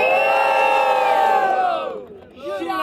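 Crowd at a Brazilian freestyle rap battle cheers and shouts loudly in a dense, sustained roar that swells and then tapers off briefly before voices pick up again.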